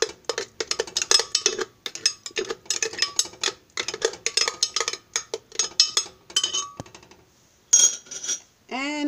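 A spoon turning frozen mango pieces into homemade mango ice cream, with rapid close clinks and scraping against a bowl in busy bursts and brief pauses, no talking.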